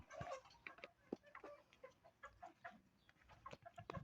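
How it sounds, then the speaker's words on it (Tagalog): Chickens cluck continuously with irregular, overlapping calls, fairly faint and nearby, with no talking. "Pasensya na kayo sa mga manok. Ang ingay."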